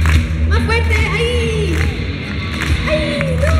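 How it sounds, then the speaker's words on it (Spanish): Concert crowd at an anime convention festival clapping along to a live song, loud and steady under the music, with cheers and whoops mixed in. "Y aquí necesito que saquen todas sus palmas"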